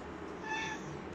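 A house cat gives a single short meow, faint and fairly close, over a steady room hum.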